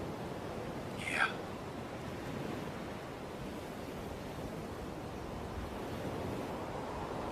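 Broad, steady roar of sea waves against a beach at dusk, with a brief whispery sound early on over the continuous surf wash.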